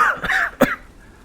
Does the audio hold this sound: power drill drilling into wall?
no